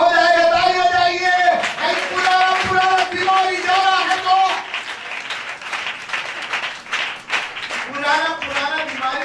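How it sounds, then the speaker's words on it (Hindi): A church congregation at a Hindi-language service claps hands in a loud, steady patter, with a voice and sustained tones carrying over the clapping. "ताली बजाइए।"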